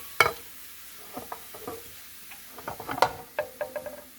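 Garlic frying in oil in a pan is stirred for dry-shrimp stir-fry, with scattered soft scraping taps and faint sizzle, spaced irregular clicks of a utensil against the pan, close and quiet.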